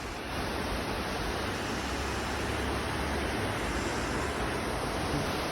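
A large river rushes through Myagdi, Nepal, a steady, dense roar of churning water that stays loud and constant throughout with no voices.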